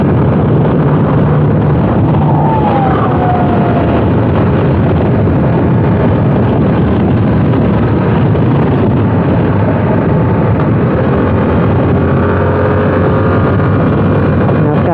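A Yamaha YZF-R7 700cc CP2 twin-cylinder motorcycle being ridden hard on a test ride, its engine roaring loudly and continuously under heavy wind rush as it accelerates.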